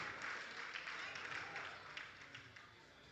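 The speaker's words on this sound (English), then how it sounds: "Give a big round of applause to the Canadian coach." A crowd at a regional powerlifting championship in the Cayman Islands claps for the Canadian coach, a fairly faint, steady patter of applause that thins out slightly toward the end.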